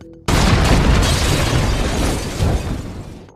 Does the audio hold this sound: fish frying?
no